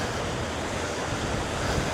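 Steady, broadband wind roars across the microphone without pause, a dense rushing noise filling the whole clip, outdoors at Minnehaha Falls, Minnesota.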